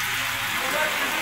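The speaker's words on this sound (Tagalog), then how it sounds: "Malakas ang ulan" Heavy rain hisses steadily across a broad wash of noise, loud and continuous, like a downpour drumming on a nearby surface.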